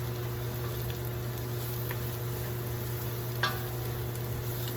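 Mushrooms frying in a pan for Salisbury steak, giving a steady, soft sizzle with faint stirring clicks and one brief scrape, close and even with no talking.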